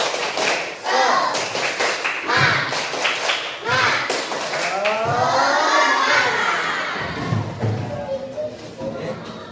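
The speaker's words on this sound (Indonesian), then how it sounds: "Sekarang tepuk semangat, bisa? Tepuk semangat." A school class performs the tepuk semangat clapping chant, rhythmic bursts of group claps and taps alternating with children's voices chanting, lively and close.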